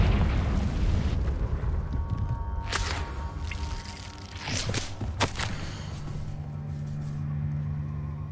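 Confringo fire-spell explosions in Hogwarts Legacy: two sharp, bright blasts bursting out a few seconds apart over a rumbling low background, each fading quickly.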